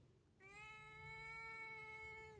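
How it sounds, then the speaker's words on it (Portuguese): A pet cat lets out one long, drawn-out meow, close and fairly quiet, in an otherwise hushed room. "Gata doidinha que eu tenho."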